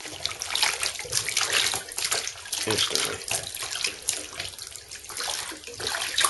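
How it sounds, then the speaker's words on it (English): A buckskin hide is dunked into a tub of water and left to soak, giving continuous sloshing and splashing close by, with a brief spoken word over the water. "Just gonna dump this thing right on in the water"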